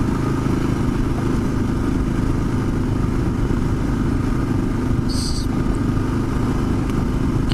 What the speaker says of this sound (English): You can hear the motor working.